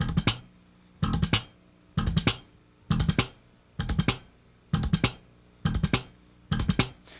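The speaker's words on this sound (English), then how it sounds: "This is something that I call a machine gun triplet. Now when you do this, the basic motion is thumb," Bass guitar played in a machine gun triplet of thumb slap, left-hand click and pluck, heard as eight evenly spaced bursts of three quick percussive hits each, close and dry, with no talking.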